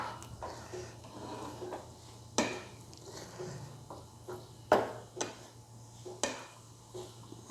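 Maggi noodles with masala being stirred in a pan: a spoon scrapes and clanks against the metal several times at irregular intervals over a faint steady hum, fairly quiet and with no talking.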